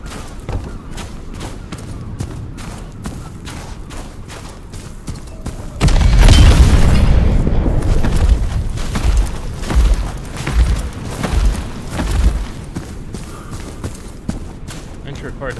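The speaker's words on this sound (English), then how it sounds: "Oh my god, they have rocket artillery." Rocket artillery fire and explosions in the video game Enotria: The Last Song, with a sudden heavy blast midway followed by rumbling booms that come and go, while someone talks over the action.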